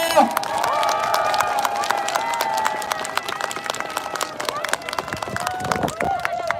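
A crowd at an outdoor election rally in front of Taepyeong Department Store applauds and cheers continuously over background hubbub, with a steady tonal hum and chatter running through it.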